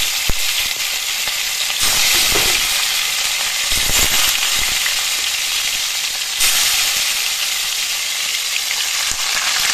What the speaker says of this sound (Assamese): ইয়াতে মাছখিনি প্ৰথমতে ফ্ৰাই হ'বলৈ দিম